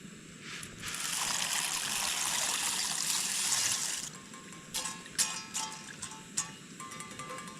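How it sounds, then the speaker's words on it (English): Dry noodles dumped from a pan into water on a backpacking stove outdoors, a steady rushing pour for a few seconds, then scattered splashes and bubbling nearby with no talking. "I just put these noodles in the pan just to make it easier to dump them in"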